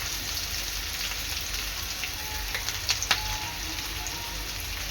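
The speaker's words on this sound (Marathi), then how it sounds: "तेल चांगलं गरम झालेलं आहे। यामध्ये टाकणार आहे मी कढीपत्ता, बारीक चिरलेला कांदा, चवीनुसार मीठ," Curry leaves and finely chopped onion sizzle in hot oil, a steady dense hiss with a few louder crackles and pops midway, close and continuous without talk.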